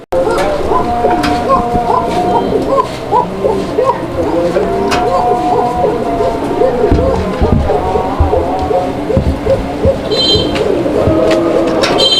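Lahori toy pigeons coo in a busy loft in a pigeon market, a steady layered chorus of close cooing calls over low crowd murmur and other birds.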